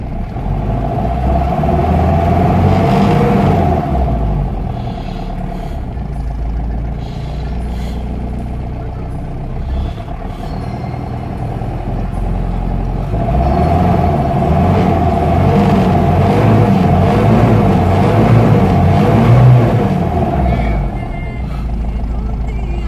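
An Isuzu Trooper SUV engine runs steadily up close, a low rumbling drone with a constant whine that rises and settles as it revs.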